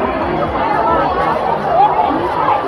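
Crowd chatter at a religious katha gathering, a steady dense murmur of many voices close by, loud and continuous throughout.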